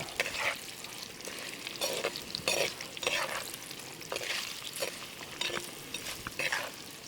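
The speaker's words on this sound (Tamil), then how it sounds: "இதை போட்டுட்டு இது நல்லா பெரட்டுங்க" Kodaikanal potatoes being stir-fried with masala, garlic and oil in a pan: steady close sizzling broken by repeated scraping stirs in an uneven rhythm.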